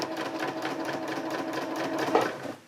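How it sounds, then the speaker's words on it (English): A sewing machine stitches hammock tarp fabric in one continuous run of fast, even needle clatter, close and steady for nearly three seconds, with a brief louder bump near the end. "So I can just sew a little bit"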